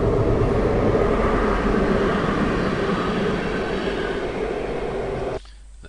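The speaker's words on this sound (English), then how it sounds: "That's a train" A train passing, played back from a noise measurement recording: a loud, steady broadband rumble of rolling wagons that holds for several seconds before dropping away abruptly.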